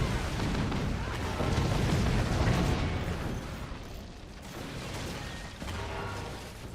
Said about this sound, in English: Beautiful cannon shot follow-up.